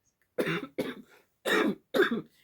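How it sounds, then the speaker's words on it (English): Four harsh coughs in close succession, loud and near, with short pauses between them and no talking. "I'm going to cough in 2 seconds"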